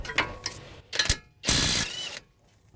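A ratchet wrench clicks in short bursts on 22 mm axle bolts of a 2005-2010 Honda Odyssey, a few quick ratcheting strokes followed by one longer, louder pull, close up with no talk.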